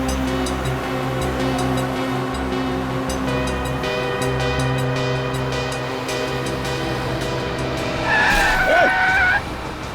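A car driven recklessly on a road, its engine droning steadily, then a loud tire skid near the end, close by, with no voices.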